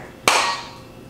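A single sharp hammer strike rings out once, loud and close, then fades with a short metallic decay; no voices are heard.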